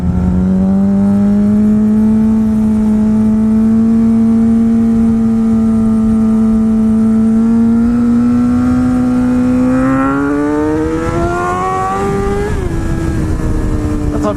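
A car engine drones steadily at a constant pitch, then climbs sharply as it accelerates hard up a freeway on-ramp on new tires, loud and close inside the cabin.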